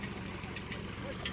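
A diesel engine drives a tubewell in a Punjab village, a steady low rumbling thrum with faint rhythmic knocking, heard close and continuous over a short stretch.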